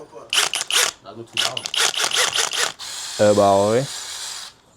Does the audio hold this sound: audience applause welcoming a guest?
no